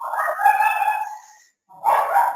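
A small dog barks in two drawn-out, high-pitched yelping calls, the first long and whiny, then a short pause before another starts, fairly close and loud.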